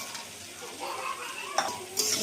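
Taro curry with fried lentil dumplings stirred in a pan, a soft scraping of the spoon against the pan with faint sizzling beneath and a couple of sharper utensil clinks near the end.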